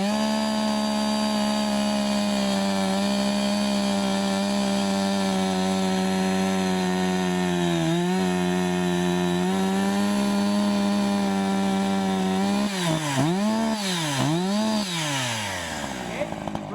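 A chainsaw held at full throttle during a training weekend, a loud steady high-revving drone that stays level for most of the clip, then wavers and dips in pitch near the end as the load changes.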